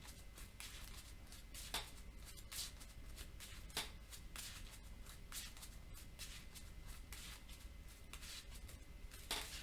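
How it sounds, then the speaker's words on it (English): A deck of game cards is shuffled by hand close up, with repeated quick riffling bursts in an uneven rhythm over about ten seconds, with no talking. "Let's get this shuffled here."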